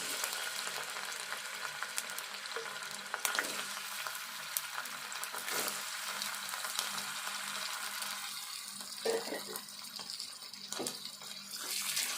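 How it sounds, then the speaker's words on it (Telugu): Bitter gourd pieces fry in oil with a steady close-up hiss, broken by occasional stirring clatters and a few louder scrapes near the end; no one speaks. "ఇప్పుడు ఇందులో ఈ కాకరకాయ ముక్కలు ఫ్రై చేసుకుందాము"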